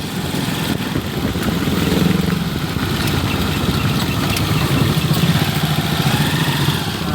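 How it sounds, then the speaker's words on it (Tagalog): A motorcycle engine idles close by on a road with a loud, steady, rumbling putter that barely varies, with no one talking over it. "Ayan, tunog ng motor niya,"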